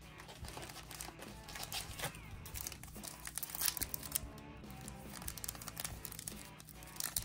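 A Topps Big League baseball card pack wrapper being torn open, a continuous close crinkling and crumpling of foil with sharp tearing bursts over about seven seconds.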